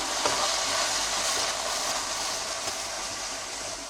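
Chicken pieces being fried in a pan, giving off a steady, close sizzle with a dense, hissing crackle that runs unbroken for several seconds, with no talk.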